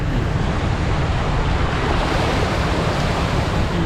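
River rapids rush through a flooded area where a car has sunk, producing a loud, steady, unbroken roar of churning water close at hand with no voices.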